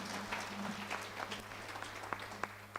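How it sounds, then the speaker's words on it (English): Audience clapping at a youth camp session, a dense burst of applause from a crowd that carries steadily across the short stretch, moderately loud and continuous, with a constant low hum beneath. "A round of applause for him."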